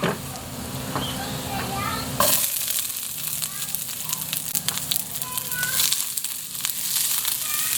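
Chopped onion goes into a pan of already browned garlic for adobo, giving a steady close sizzle and crackle of frying that jumps in loudness as the onion lands, with a person talking over it.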